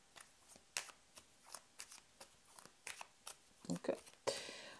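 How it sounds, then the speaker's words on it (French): Cards are drawn one at a time from a traditional belote deck during a tarot-style reading, giving soft, close flicks and slides at an irregular pace with some rustling. "Et je ne vais pas du tout prendre les cartes. Là, c'est moi qui vais les tirer."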